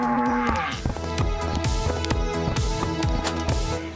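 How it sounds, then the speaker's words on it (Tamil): A cow moos once, loud and close, over a rhythmic background of repeating beats that continues for the rest of the clip. "வா மாடு நகரு, வா மாடு உள்ள போ"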